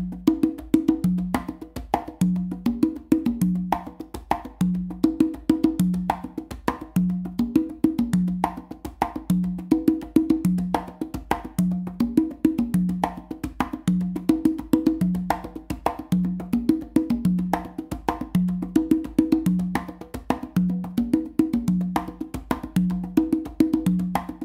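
A caballo variation played on three congas, a steady galloping pattern of open tones and slaps repeating without pause, close and loud, with no voices.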